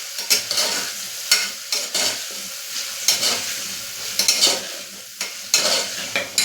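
A spoon stirs guar beans and potatoes frying in a pan for Gujarati guvar bateta shak, giving repeated scraping strokes over a constant oil sizzle, close and clear with no talking.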